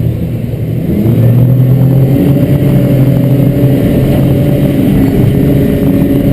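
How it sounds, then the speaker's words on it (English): A Stabicraft 2880 Pilothouse boat accelerates on take-off, its engines droning loud and close in a steady, building roar with water rush underneath, no talking. "notice this acceleration when I take off"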